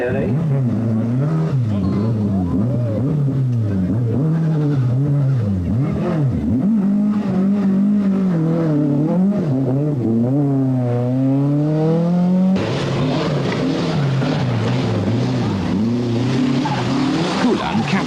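A rally car from the 1982 RAC Lombard Rally corners hard on a tightening right-hander, its engine revving and wavering loudly close by with tyre squeal, while a commentator talks over it throughout.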